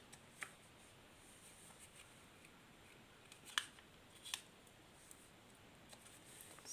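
Scissors snip paper for an origami bird craft, a few sharp, quiet cuts scattered over a faint background with no talking.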